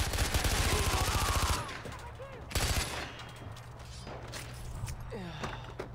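Rapid automatic gunfire from Far Cry 4 rattles loud and close in two bursts, then fades into game mechanism noise and clatter, with mechanical creaks and distant shots trailing after.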